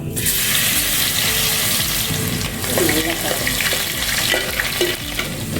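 Crushed garlic cloves frying in hot oil for a Katla fish curry, a steady close sizzle with scraping stirring sounds throughout, no talking.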